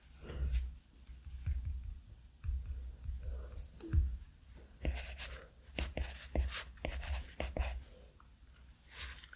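An Apple Pencil taps and scratches across an iPad screen in short strokes and clicks, close and quiet, with soft whispered speech in places.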